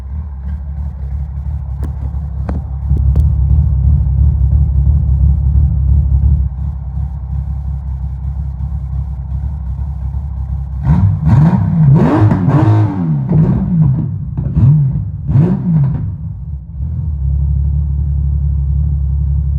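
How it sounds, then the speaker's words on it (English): A 1989 Honda Goldwing GL1500 custom motorcycle engine idles with a deep rumble, then revs several times in quick bursts that rise and fall before settling back to idle. "I'm gonna put the phone down and do a couple revs"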